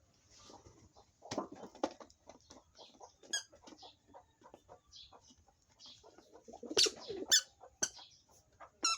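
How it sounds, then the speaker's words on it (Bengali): Pigeons feeding on the ground after being released, with scattered sharp pecks and taps, soft coos and occasional clucking bird calls nearby, and no talking. "মেরিনা, দেখেন কবুতর গুলো খাচ্ছে।"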